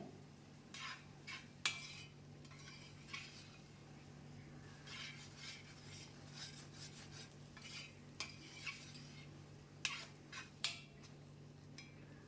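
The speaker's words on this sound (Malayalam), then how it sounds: "കുറച്ച് സമയം എടുത്ത് തന്നെ ഇത് വഴറ്റി കൊടുക്കണം" Ada pradhaman being stirred and sautéed in a pan, a spoon scraping and clinking against the metal in irregular strokes over a low steady hum, with a faint sizzle underneath.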